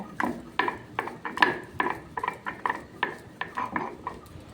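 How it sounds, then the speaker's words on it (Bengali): Dry cumin, dried red chillies and black cumin crushed on a flat grinding stone without water, a steady series of about fifteen short scraping, clacking strokes in an even rhythm, close and fairly quiet with no talk. "খালি শিলে আর এটা শিলে বাঁকলেই ভালো হবে বন্ধুরা জল ছাড়া এই জিরে শুকনো লঙ্কা আর কালো জিরেটা আগে গুঁড়িয়ে নেব"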